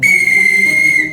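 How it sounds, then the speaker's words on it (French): A train conductor's whistle gives one steady, loud, shrill blast lasting about a second, close and alone. "C'est le sifflet du conducteur!"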